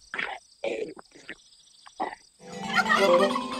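A turkey gobbles loudly and close after a few short rustling, thumping noises.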